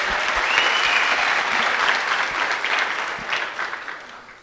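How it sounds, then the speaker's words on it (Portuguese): Audience in a full conference room applauding, a dense, loud burst of many hands clapping that holds steady and then gradually thins and fades out over a few seconds. "Então uma salva de palmas para vocês também."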